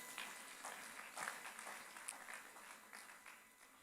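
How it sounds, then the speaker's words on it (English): Faint, distant applause rises from the audience at a university graduation congregation, a thin scattered patter of many hands heard at low level for about four seconds with some voices mixed in. "Shall we give them a hand of applause?"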